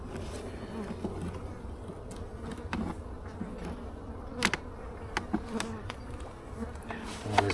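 Honeybees buzz steadily through an opened beehive during a March inspection, a low, dense hum with scattered clicks and knocks of handled frames and no talk.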